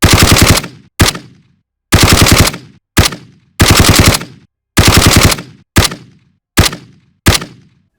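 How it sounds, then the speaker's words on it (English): Galil assault rifle from the Modern Warfare video game firing in eight short bursts of rapid automatic fire, loud and close, each burst cut off sharply with a brief decaying tail and silent gaps between. "you can hear what the gun sounds like from the files of the game"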